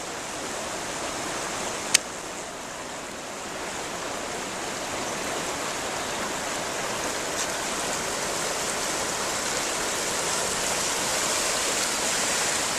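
A river rushes along the Great Allegheny Passage bike trail, a steady, full wash of flowing water heard up close for the whole stretch, with a single sharp click near the start.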